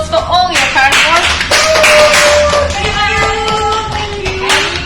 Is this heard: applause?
yes